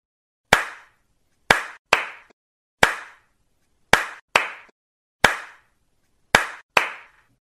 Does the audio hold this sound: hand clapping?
yes